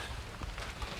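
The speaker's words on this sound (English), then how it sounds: "let me get out of the rain" Rain falls outdoors near a water collection setup, a soft, steady patter of drops on surfaces heard faintly and briefly.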